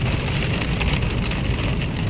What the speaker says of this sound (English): The rain starting to come down, buddy.